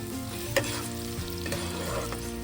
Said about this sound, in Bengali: পেঁয়াজটা বেশ ভালো করে ভাজবো।